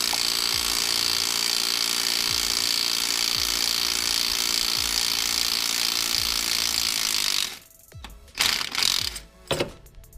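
Harmonic balancer puller drawing an ATI balancer off a Camaro V8 during a cam swap, a loud, continuous mechanical whir with periodic clunks, ending abruptly in a few scattered knocks and rattles.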